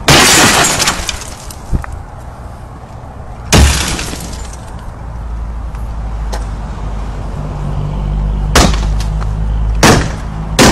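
A hammer smashes a car's glass in a few loud, sharp shattering blows spread apart, each followed by tinkling debris, with a low rumble continuing between strikes.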